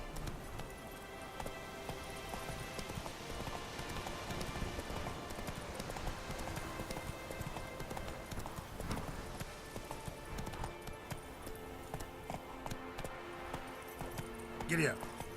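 Roach, the horse in The Witcher 3: Wild Hunt, trots with a steady clip-clop of hooves under game music and ambience, the gait continuing evenly throughout with a brief louder moment near the end.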